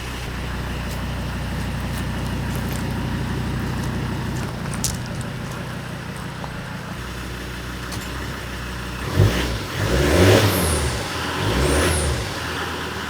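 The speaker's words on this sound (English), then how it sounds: "check out the sound that it makes, because that's sort of what the exhaust is all about." A Volvo C30 D4 R-Design's five-cylinder diesel with DPF and straight-back exhaust idles with a low, even burble, then is revved several times, each throttle blip swelling louder before settling back.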